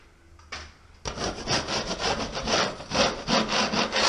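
A knife scraping a skim coat on a wall: a rough, rhythmic rasping of repeated strokes, close and fairly loud, starting after a short quiet pause and continuing steadily.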